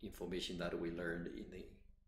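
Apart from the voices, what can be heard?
No everyday noise stands out behind the speech.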